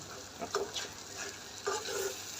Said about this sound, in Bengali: এটা তেল দিয়ে একটু ভাজি।